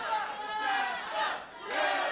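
A wrestling arena crowd roars loudly in surging waves of cheering and chanting that swell, dip briefly, then rise again.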